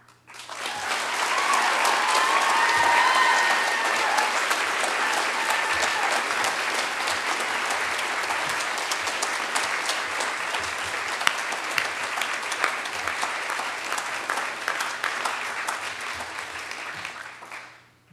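A round of applause at a College of the Atlantic convocation in 2009. It is a long, dense, sustained burst of clapping from a large audience that swells, holds for many seconds, then tapers off at the end.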